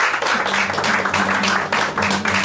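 Audience applause closing a philosophy lecture, steady dense clapping from a crowd over a low sustained hum, with a brief dip in the middle before the clapping resumes.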